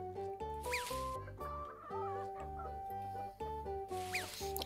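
A cartoon hen clucks repeatedly over a bouncy children's music backing, the clucks short and bright, coming in quick clusters near the start and end.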